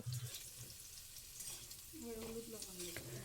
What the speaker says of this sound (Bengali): আলুগুলোকে নেড়েচেড়ে একটু লাল লাল করে ভেজে নেব